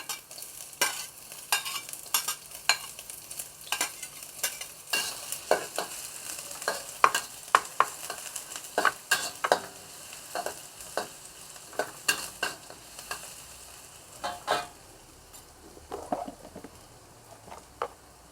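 Shallots frying and being stirred in a pan in a home kitchen, with a quiet continuous sizzle broken by frequent scraping and clacking strokes of the utensil, close and alone.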